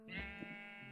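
Sheep bleating in the video game TerraFirmaPunk, a single clear, close bleat with a wavering, nasal tone lasting about a second, heard alone.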